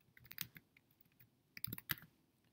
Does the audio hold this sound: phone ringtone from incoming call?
no